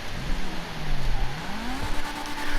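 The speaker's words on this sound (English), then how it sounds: "that rev up sound is vicious" Car engine revving in a racing video game from the Tuners add-on, a convertible fitted with a hardtop; a steady, loud engine tone climbs and dips then rises again, continuous throughout with no talking.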